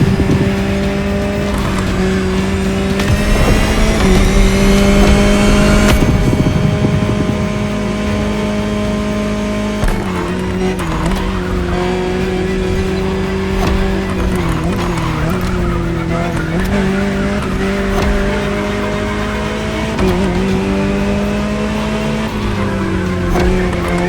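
Jaguar C-X75 hypercar prototype driven in The Crew Motorfest, a steady loud engine drone with shifting revs and tire squeal throughout, held high for the whole run without any talk.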